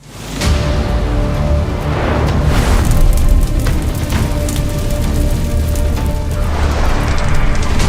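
A massive asteroid impact explosion, a loud deep rumbling boom that swells after a brief onset and sustains as a heavy roaring blast with debris-like crackle to the end.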